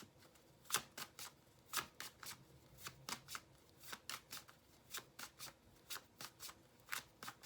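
A deck of tarot cards shuffled in a steady run of crisp riffling bursts, about two per second, close and clear with no talk over them.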